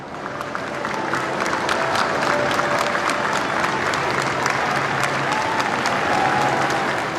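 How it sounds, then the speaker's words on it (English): Crowds lining the London streets applaud as Margaret Thatcher's funeral hearse passes, a sustained, even wash of clapping from many people, with faint voices mixed in throughout. "To applause, the hearse traversed territory which told the story of Margaret Thatcher's political life"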